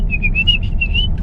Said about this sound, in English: Maybe I can do a special whistle.